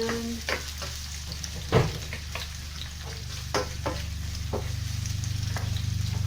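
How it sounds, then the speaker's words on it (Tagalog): Onion frying in olive oil in a pan for a Spanish pisto, a steady close sizzle with occasional sharp stirring clicks and scrapes throughout. "Olive oil. We put the onion first."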